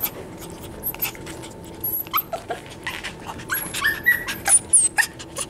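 Cavapoo puppies whimpering and yipping close by, a string of short high-pitched whines and squeaks coming in quick irregular bursts that grow busier toward the end, with no talk.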